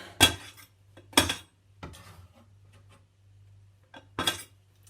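Metal utensils knock and scrape against a bowl while a Thai chicken salad (laab kai) is mixed. There are a few distinct clinking strikes spaced about a second apart, close and moderately loud, with a low steady hum behind them.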